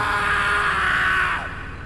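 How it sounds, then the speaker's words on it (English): A man's drawn-out, blood-curdling scream from an animated horror story set in a car on a highway, loud and sustained for nearly two seconds before trailing off. "the man lets out a blood-curdling scream"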